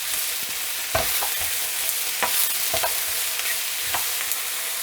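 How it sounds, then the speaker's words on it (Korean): Japchae vegetables and shiitake mushrooms are stir-fried in a pan, with a steady sizzle under repeated scraping stirs and clicks, close and alone, no talk. "이렇게 너무 많이 볶지 마시고 숨이 죽을 정도로만"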